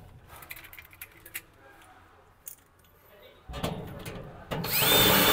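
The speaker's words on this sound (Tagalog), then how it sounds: "Then drill." Power drill driving screws into a steel wardrobe swing door during assembly, quiet handling clicks and rattles at first, then the drill whirs up loudly and close, rising to a sustained whine at the end.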